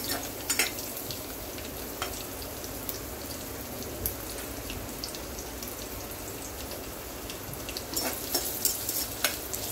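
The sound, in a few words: onion frying in oil in a pan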